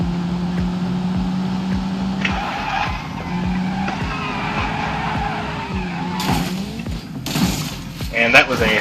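A Skoda Octavia in the BeamNG driving game grinds through a crash, with tire skids, engine drone and rhythmic thumps building into crunching impacts near the end.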